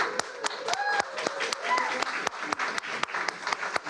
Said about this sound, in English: I was going to say let's recognize these people with a round of applause, but you did that on your own.